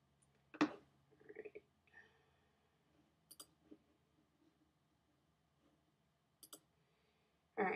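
Computer mouse clicks, a few sharp isolated ticks spread out over quiet room tone with brief faint knocks between them.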